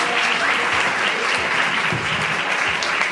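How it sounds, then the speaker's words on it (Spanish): Audience applause fills a comedy stage show in Sa Pobla, Mallorca, as a comedian is introduced: steady, dense clapping throughout, loud and close with no break. "¡Un aplauso!"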